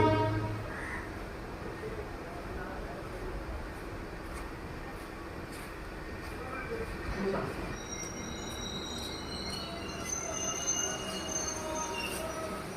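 The Kochuveli–Gorakhpur train rolls onto platform 3 at Kollam Junction, high metallic wheel squeals rising over a low rumble, steady and moderately distant, with crows cawing faintly in the background.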